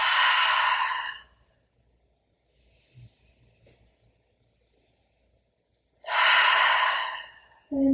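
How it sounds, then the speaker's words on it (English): Slow, deep breathing during a yoga class: a long inhale through the nose, a quiet pause, then a loud, breathy exhale through the mouth that starts again near the end, close and alone. "inhale through the nose and out through the mouth. Big cleansing breath."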